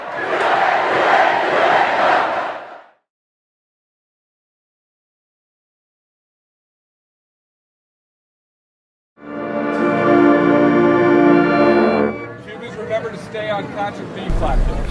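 Packed crowd at a homecoming football game in Bishop Stadium, a loud wash of massed voices and babble that cuts out for several seconds, then returns with cheering and shouting rising over the noise.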